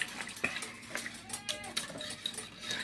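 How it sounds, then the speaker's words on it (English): Homemade mac and cheese is stirred in a pot on a stovetop, giving close, irregular scraping and light metallic clinks of a spoon against the pot, with faint background murmur. "But let me stir this first."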